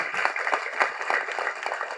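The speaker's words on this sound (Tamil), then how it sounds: "அதற்கு ஒரு பெரிய கைத்தட்டல்" Audience applause at a Tamil film audio launch for Pogumidam Vegu Thooramillai: a dense, steady wash of many hands clapping in a hall, sustained and fairly even throughout with no voices standing out.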